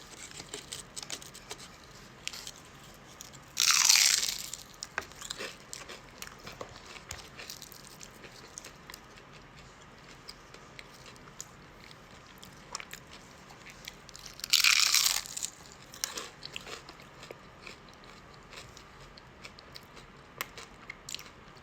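Crunchy fried crab rangoons being bitten and chewed close to the microphone, with two sharp loud crunching bites followed by softer ticking mastication sounds in a quiet room.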